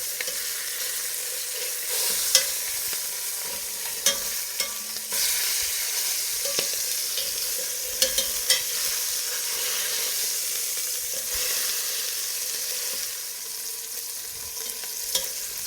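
Beef short ribs searing in a hot pan, a steady close sizzle and hiss carrying on throughout, with scattered small pops and crackles over it.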